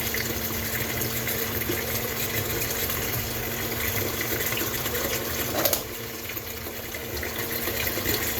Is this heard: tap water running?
yes